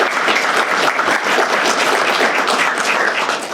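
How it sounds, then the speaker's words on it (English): A large audience at a veterans recognition breakfast gives sustained, loud, dense applause for veteran service officers, a steady wash of many hands clapping with no break. "Give them a round of applause"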